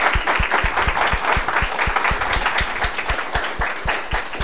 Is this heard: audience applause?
yes